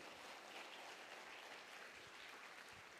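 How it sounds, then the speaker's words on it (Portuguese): A church congregation applauding during a sermon: steady, full-room clapping that holds at an even level throughout without any talk. "Vamos dar um aplauso a esse Deus maravilhoso."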